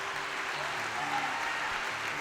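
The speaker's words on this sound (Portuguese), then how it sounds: "Se eu fosse você, eu aplaudia mais." A church congregation applauding together during a Portuguese-language sermon, a dense, steady wash of clapping filling the room for a couple of seconds.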